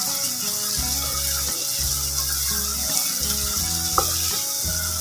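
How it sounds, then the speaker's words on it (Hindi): Pumpkin halwa roasts in ghee over a high flame, giving a steady, close sizzle with intermittent scraping and clinks from stirring throughout. "और हाई फ्लेम पर हम इसकी करेंगे भुनाई।"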